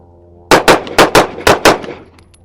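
Kimber KDS9c Rail 9mm pistol firing six sharp, loud, close shots as three quick pairs with very short splits, followed by a brief ringing decay.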